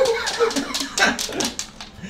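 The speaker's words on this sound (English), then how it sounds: "That dog is way too excited" An overexcited dog yips, whimpers and whines in quick, high-pitched bursts close by, mixed with short barks, while people talk and laugh lightly over it.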